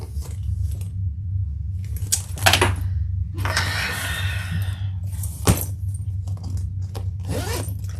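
The zipper on the back pocket of a handmade leather bag is pulled in several short, close, crisp runs between pauses, with small rattles of the pull and hardware in a quiet room and no talk.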